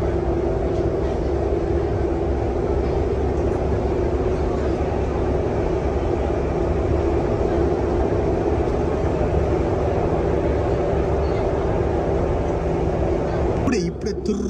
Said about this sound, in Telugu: ఇప్పుడే తుర్రని వెళ్ళిపోయింది ఆ ట్రైన్